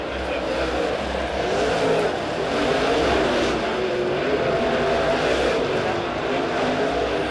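Late model race cars racing around Springfield Raceway oval, a continuous distant engine drone with faint rising and falling pitch, heard beneath a track announcer's voice.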